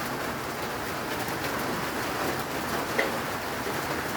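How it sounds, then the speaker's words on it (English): Steady rain falls outdoors in a constant, dense hiss with no breaks, moderately loud and unaccompanied by voices. "If it stops raining."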